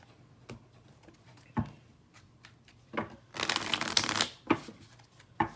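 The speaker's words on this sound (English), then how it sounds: "So I do keep an eye on the way the cards shuffle" Tarot cards are shuffled by hand in a quiet room, giving soft riffling bursts and several sharp taps, with a longer flurry of shuffling near the end.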